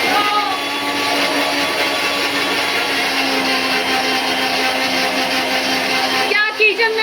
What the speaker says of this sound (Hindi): तो मैं इसको ग्राइंड कर लेती हूँ।